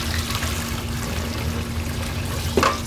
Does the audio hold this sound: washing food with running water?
yes